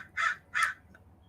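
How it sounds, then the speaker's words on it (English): Two loud crow caws sound close together, then a faint third call, from crows in a small park area in Solvang. "unlike now, the crows"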